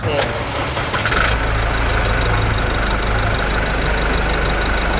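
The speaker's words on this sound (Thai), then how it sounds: "เดี๋ยวเราไปฟัง เสียงเครื่องยนต์กันดีกว่าสตาร์ทติดง่ายนะคะ" A 2022 Isuzu D-Max 1.9 diesel engine cranks and fires with a short burst of starter noise, then settles into a steady, close idle that continues unchanged to the end.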